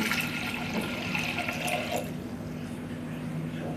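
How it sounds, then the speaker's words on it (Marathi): Water gushes and splashes into a pressure cooker over washed lentils for about two seconds, then the flow stops, leaving a low steady hum. "आता आपण यामध्ये पाणी टाकून घेऊ"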